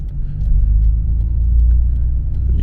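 A Nissan Skyline R34 GTR rolling along a road in Japan, its engine a low, steady rumble heard from inside the car throughout, with no talk.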